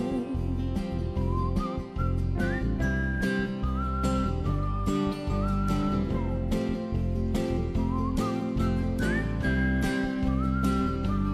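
Melodic whistling carries a tune over organ or instrumental hymn accompaniment at a church service in Dokkum, steady and fairly loud throughout.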